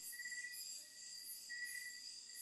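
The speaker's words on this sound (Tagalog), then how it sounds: "Narinig yung mga kabagat yung mga kulisap, no?" Night insects in San Pablo, Laguna, a faint, steady high-pitched chorus of crickets with continuous trilling chirps and no voices.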